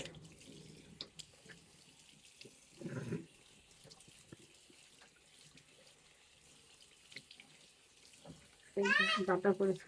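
Water runs from a tap to rinse dusty leaves on a potted plant, with short splashing bursts in a quiet indoor space while an adult and someone talk nearby.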